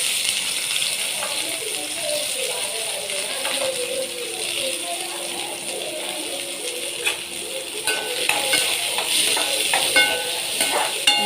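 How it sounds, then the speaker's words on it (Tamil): Vegetables sautéing in hot oil in a kadai give a continuous sizzle with scraping and rattling stirring noises, louder toward the end, under a quiet voice. "நல்லா வதக்கி விட்டுருலாம்"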